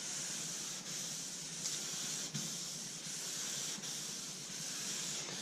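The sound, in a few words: wet sanding car paint clear coat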